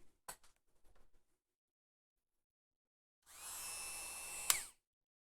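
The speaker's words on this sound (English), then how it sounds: "sound of a drill" A power drill whirs in a short burst of about a second and a half, close and fairly loud, with its pitch shifting slightly as it runs, following a few faint clicks and handling noises while working on a desk.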